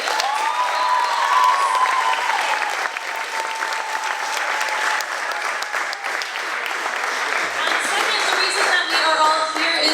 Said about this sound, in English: can we just give a round of applause for everybody who has performed tonight?